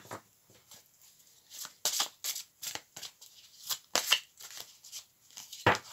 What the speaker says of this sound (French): On glisse ces cartes.